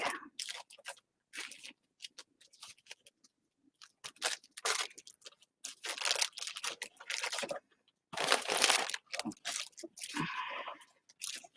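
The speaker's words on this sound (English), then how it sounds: "I guess I could use a little plastic bag." A small plastic bag crinkled and handled during a craft session, in irregular bursts of crisp rustling separated by short silences, close and fairly loud.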